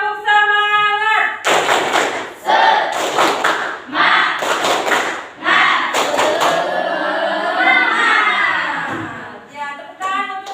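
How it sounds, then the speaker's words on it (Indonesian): A school class does a rhythmic 'tepuk semangat' cheer-clap, loud groups of synchronized claps in bursts, mixed with children's chanting voices and a teacher's voice at the start and end. "Tepuk semangat."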